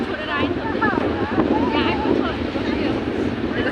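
Wind gusting steadily against the microphone outdoors on a road journey between Tanahun and Baglung in Nepal, a constant broad roar with voices speaking faintly underneath.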